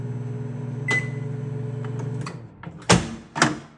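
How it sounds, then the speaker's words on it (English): A Farberware countertop microwave door pops open with a sharp unlatch, then thuds twice. The oven's steady low hum runs beneath, and a short beep rings out partway through. "You have to press door open."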